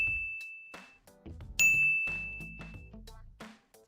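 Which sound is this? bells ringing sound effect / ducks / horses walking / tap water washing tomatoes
bells ringing sound effect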